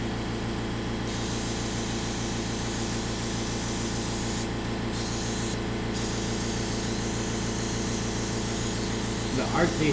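An airbrush sprays white alcohol ink in a steady, close hiss, broken by short pauses as the trigger is released, with a faint rustle at the end.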